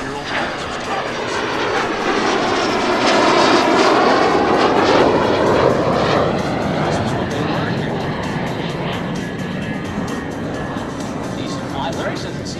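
L-39 Albatros two-seat jet trainer at the 2019 New York International Air Show, its engine whine loud and swelling as it passes then fading, with someone talking over it throughout.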